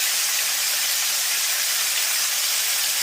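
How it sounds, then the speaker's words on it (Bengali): Potatoes and eggplant sizzle in hot oil in a pan, a steady, loud, continuous hiss with no pauses and no voices. "এবার বেগুনগুলো দিয়ে ভেজে নেব।"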